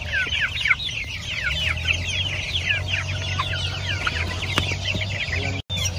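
Dense, continuous peeping of about 150 one-month-old Hubbard chicks inside a coop, a steady chorus of overlapping chirps with a low background hum and no talk.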